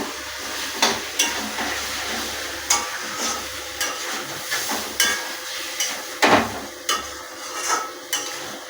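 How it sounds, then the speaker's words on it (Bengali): Chorchori vegetables being stirred in hot oil in a pan, with a steady sizzling fry and scraping spoon strokes recurring every second or so, close and moderately loud, no talking. "এক টেবিল স্পুন আমি দিলাম, দিয়ে বেশ করে নাড়তে থাকলাম।"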